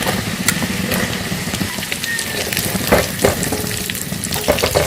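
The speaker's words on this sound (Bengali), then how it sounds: "এগুলো সামান্য ভেজে নিয়ে এবার দিয়ে দেবো পেঁয়াজ কুচি।" Chopped garlic and ginger sizzle in hot oil for chilli chicken as chopped onion goes in, a close, steady frying hiss with spatula scrapes and stirring clatter.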